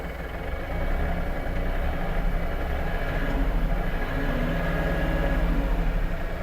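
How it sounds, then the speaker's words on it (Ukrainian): Engine of an Iseki TG-333 Hi-speed Japanese mini tractor running steadily and revving up slightly, a continuous low droning rumble, close and loud with no talk. "Можете Почути, який потужний двигун."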